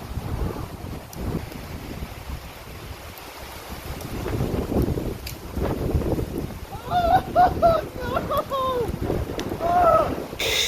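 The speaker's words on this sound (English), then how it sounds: "The wind is howling." Strong wind gusts buffet the microphone at dusk on a tightly wooded golf course as a storm approaches, a rough, rumbling roar that swells and eases, with voices talking over it.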